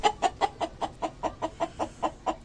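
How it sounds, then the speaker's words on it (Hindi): A hen kept in a rooftop poultry enclosure clucks in a steady, rapid series of about a dozen evenly spaced, close, clear clucks with no talking. "ये देखें, एक मुर्गी और है अंदर"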